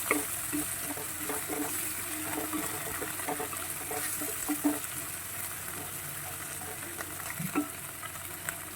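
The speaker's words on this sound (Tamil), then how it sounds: "கொஞ்சம் வதங்கட்டும்" Tomato and onions sauté in a pan for soya chukka, a steady close sizzle with scattered soft clicks and stirring scrapes throughout.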